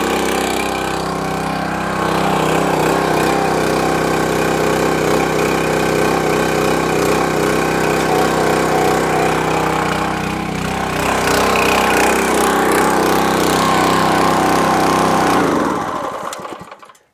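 A Champion 224cc log splitter engine with a Huayi replacement carburetor running steadily, a loud continuous small-engine drone close by for most of the clip before it shuts down and winds to silence, no talk.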